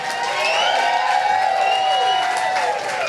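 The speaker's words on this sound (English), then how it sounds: "Big round of applause for Vinny" A comedy show crowd bursts into loud applause with cheering, whistles and whoops, a thick continuous roar of clapping and voices holding steady from start to finish.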